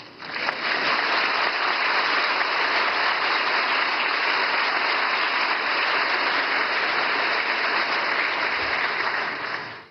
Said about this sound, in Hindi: और मुझे खुशी है सबसे ज्यादा तालियां इस बात पर पड़ी